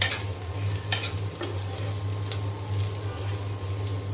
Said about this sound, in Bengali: এখন রসুন পেঁয়াজ কুচি খুব ভালো করে আমি ভেজে নেব।